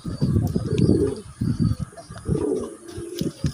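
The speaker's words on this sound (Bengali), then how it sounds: "দেখেন নটটাই ডাকতেছে তো ডাকতেছে" A male pigeon cooing up close, repeating deep, throaty rolling coos in short bursts over a faint steady hum.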